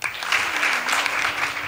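Audience at a Marathi kirtan devotional gathering clapping, a steady dense patter of many hands, moderately loud and unbroken, with no talk over it.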